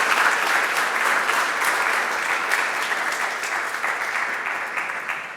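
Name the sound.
audience applause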